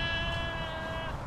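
Flock of sheep on Communications Hill in San Jose, one long sustained bleat ringing clearly over a steady windy outdoor backdrop, with no talk.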